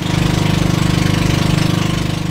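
A Honda Mio Soul scooter with a stock engine and upgraded CVT parts runs steadily up close, its engine throbbing in a fast, even pulse the whole time with no voices.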